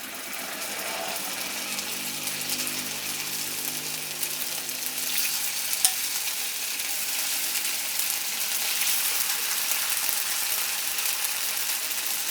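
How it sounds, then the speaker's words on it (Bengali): Chicken pieces frying in hot oil for restaurant-style mixed fried rice, giving a steady, dense sizzle and crackle that holds at an even level throughout. "তেলটা গরম হয়ে গেছে, এখন আমি এর মধ্যে চিকেনগুলোকে ফ্রাই করে নেব।"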